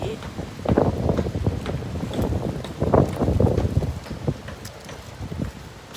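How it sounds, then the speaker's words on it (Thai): Cold seasonal wind buffets the microphone outdoors in a small town, a loud, gusty rush that swells and eases throughout with no clear pauses. "ลมหนาวเริ่มมาอีกแล้ว"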